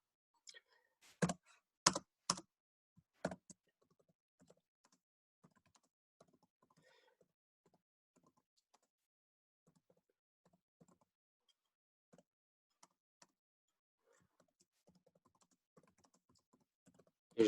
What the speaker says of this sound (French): je vais taper une première